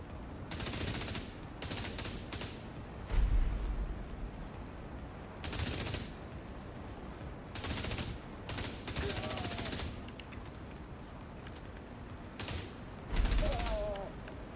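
Bursts of automatic ACR rifle fire in a video game, several separate volleys with short gaps, loud and close, with a low voice talking now and then over the shooting.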